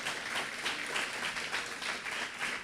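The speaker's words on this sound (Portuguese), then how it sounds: "Pode aplaudir o Senhor." Steady, dense applause from a church congregation at a sermon, a broad rolling wash of many hands clapping at even volume throughout with no distinct voices.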